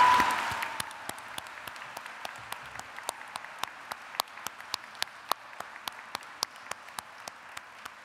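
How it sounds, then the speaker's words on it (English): An audience at a college honors medal ceremony applauds, a dense burst of clapping that quickly thins to scattered, evenly spaced single claps echoing in a large hall, with no speech. "let us take a moment to give them a round of applause"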